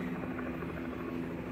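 A helicopter, apparently circling near a house fire, drones steadily with a low rotor hum throughout, fairly distant and continuous with no talk.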